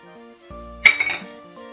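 Soy sauce and minced garlic are mixed in a bowl, with a brief sharp clink of a utensil against the dish ringing out over a quiet background.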